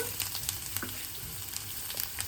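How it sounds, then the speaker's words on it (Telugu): Curry leaves and cumin crackle in hot oil for a masala dosa potato filling, a soft, steady sizzle with faint pops and light stirring scrapes throughout, no voices. "ఒక రెబ్బ కరివేపాకు ఇది కొంచెం ఫ్రై అయిన తర్వాత"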